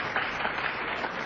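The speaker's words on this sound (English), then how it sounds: "They gave him an applause there." Audience at a Mosconi Cup pool match applauding, a brief steady patter of clapping hands at moderate volume with no voices over it.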